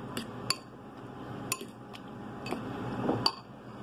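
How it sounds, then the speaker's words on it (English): A utensil stirs hash browns in a pan, sharp metallic clinks and taps at irregular intervals over a soft background sizzle, close and fairly quiet, with no talking. "Now you want to stir this up real good."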